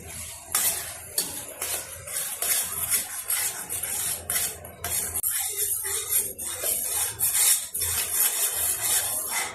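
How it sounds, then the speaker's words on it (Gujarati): Tomato puree for rajma being stirred in a pot, with steady scraping and clinking of a spoon against metal, close and continuous, over a soft sizzle. "હવે આપણે આને મિક્સ કરી લઈશું."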